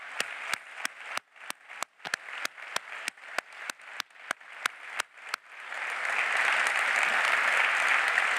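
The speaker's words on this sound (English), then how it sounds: "We have to give them applause." A slow run of single, evenly spaced claps at a global travel summit in Riyadh swells after about five seconds into full, sustained applause from the crowd for the summit staff.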